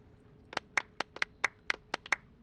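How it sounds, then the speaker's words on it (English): Quick handclaps in the video game Genshin Impact, about a dozen sharp slaps in an uneven burst, close and fairly quiet, with no voices. "A round of applause, please."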